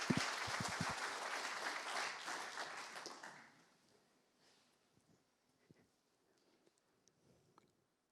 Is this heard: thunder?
no